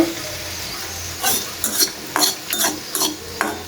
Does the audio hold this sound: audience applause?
no